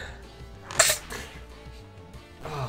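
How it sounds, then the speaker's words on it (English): A man gives one abrupt, sharp sneeze, close and loud, over soft background music from a Pokemon SoulSilver game, with a quieter breathy sound just before it. "I'm gonna sneeze."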